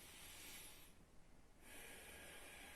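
Deep, breathy exhalation during a breathing exercise, a steady airy rush that dips briefly in the middle then resumes, close and fairly loud with no talking.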